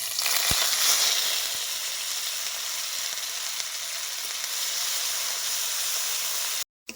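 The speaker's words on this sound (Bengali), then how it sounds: "উনানের আঁচটা কম রেখে মশলা ভালো মতো কষাই দিছি" Whole garam masala, cumin seeds and ground spice paste sizzle steadily in hot oil over a low flame, a dense continuous frying hiss that stays close and even throughout with no talking.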